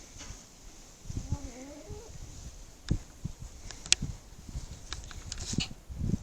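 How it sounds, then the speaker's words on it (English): Around three laying hens in a raised backyard chicken tractor give soft, scattered clucks close by, with occasional sharp scratches and knocks. "You see our chickens are pretty happy in there."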